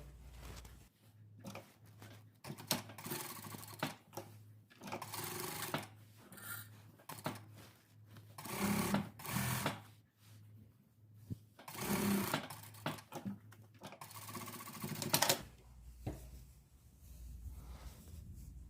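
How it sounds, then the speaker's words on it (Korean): Sewing machine stitching the sleeve of a sailor-collar dress, running in close, loud mechanical bursts of rapid needle clatter that start and stop several times with brief pauses between runs. "이렇게 스티치 해서 소매 작업했습니다"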